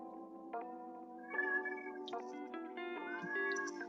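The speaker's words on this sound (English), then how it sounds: "The cat wants your attention." A talkative cat meows several times in a row, with drawn-out, rising and falling calls that are close and clear, and no talk over them.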